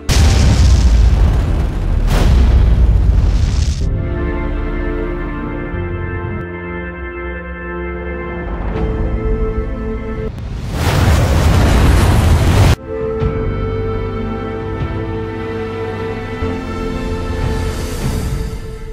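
Deep booming explosions roll through a movie trailer, heavy rumbling blasts at the start and middle, layered with sustained orchestral tones and no voices.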